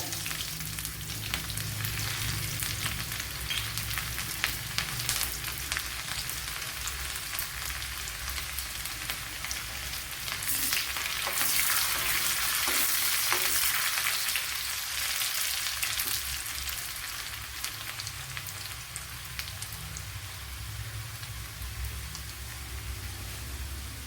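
Mustard seeds and shallots fry in coconut oil in a pan, giving a steady, dense sizzle with fine crackling that swells briefly in the middle, with no talking.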